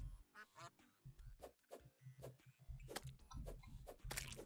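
Ducks quacking in the video game Terraria, a rapid run of nasal quacks coming close together in bursts, fairly quiet, with game sounds around them.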